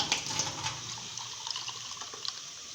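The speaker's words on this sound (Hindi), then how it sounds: "अब हम लेंगे एक गिलास, उसमें हम डालेंगे पानी" Water is poured into a glass in a home kitchen, a short, fairly quiet trickle and splash that settles into a softer running sound, with no one talking.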